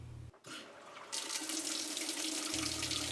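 A Whirlpool washing machine draws in cold water, a steady close hiss of rushing inflow that starts after a brief click and carries on without talk.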